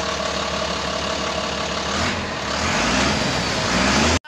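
A Foton Forward truck engine, one with a low-power fault, runs loud and steady just after starting, a continuous close rumble that swells slightly near the end before cutting off abruptly.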